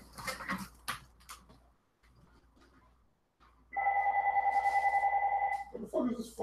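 A telephone rings with a steady electronic warbling tone lasting a couple of seconds, following a stretch of quiet talk and ending as a voice speaks again.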